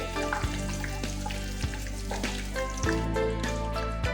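Curry leaves sizzling in hot oil for homemade hair oil, a steady close crackle with sharp pops and occasional stirring clinks throughout, no voices.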